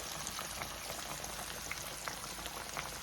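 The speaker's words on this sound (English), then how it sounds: "And let this fry up until it gets brown." Catfish pan frying in hot grease gives a faint, steady crackle with scattered small pops throughout.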